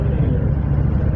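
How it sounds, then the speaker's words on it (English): Kawasaki Vulcan 900 Custom motorcycle engine running with a steady, close, low rumbling drone, loud and unbroken throughout. "It's like a little Harley engine."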